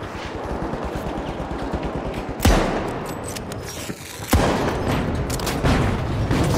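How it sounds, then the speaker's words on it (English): Bomb blasts in The Finals: two sharp, loud explosions a couple of seconds apart, each with a lingering rumble, over a continuous rattle of rapid gunfire throughout. "No, that's a bomb."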